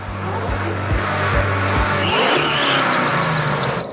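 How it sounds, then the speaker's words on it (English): A muscle car launches hard on indoor ice. A pulsing low engine roar gives way to a rev and shift as the rear wheels spin and screech, loud and close. "Good launch. Short shift to second gear, a little bit too much wheel spin there."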